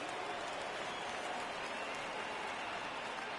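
Crowd roars in the MLB '19 baseball video game during a Red Sox vs Yankees matchup, just after Boston scores a run; a steady, dense wash of cheering and applause holds at an even level throughout.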